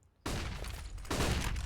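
A sudden loud burst of gunfire and utility explosions from a Counter-Strike match sounds as flashbangs are thrown, with a second, heavier crack of firing following about a second later.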